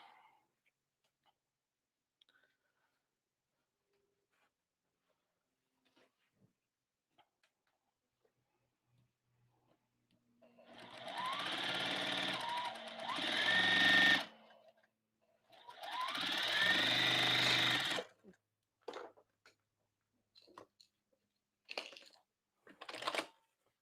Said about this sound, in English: So we're just going to sew the 3 rows together.